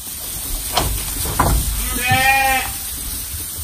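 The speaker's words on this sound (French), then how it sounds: "Des moutons?" A sheep bleats once on a farm where lambs are raised, a wavering mid-length call close by, with low rumbling background and faint scattered knocks before it.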